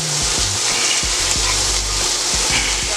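Chicken breast fries in butter on a flat steel griddle with a loud, steady sizzle and crackle, close up, broken by a few low scraping knocks from a spatula.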